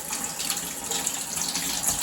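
Water is pushed into a snow globe glass can, giving a steady, close hissing rush of flowing water with no pauses across the short stretch.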